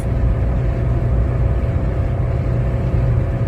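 A car engine drones loud and steady from inside the cabin while the car overtakes another vehicle on a multi-lane road, with low rumble and road noise and no voices.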